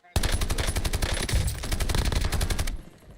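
Rapid automatic gunfire from a shooter video game rattles off in a fast, steady, loud burst of shots lasting nearly three seconds, then cuts off abruptly, with no voices over it.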